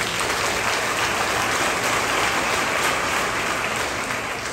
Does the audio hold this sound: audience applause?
yes